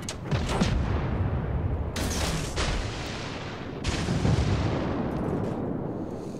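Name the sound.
warship guns firing, from World of Warships video game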